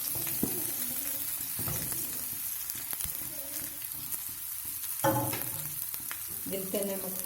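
Potatoes and green chilies fry in a pan, a steady close sizzle broken by the scrape and knock of stirring, with a louder clatter midway.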